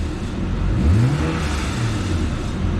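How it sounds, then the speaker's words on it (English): A car engine revs during a battery charging system test with lights and loads switched on, one near, loud rise in pitch that falls back to a steady idle hum. "Again, rev the engine"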